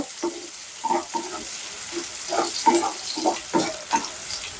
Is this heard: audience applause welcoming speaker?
no